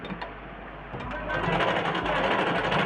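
A sewing machine runs straight stitches along a blouse, starting with a quieter whir and then settling into a steady, louder mechanical drone without any talking.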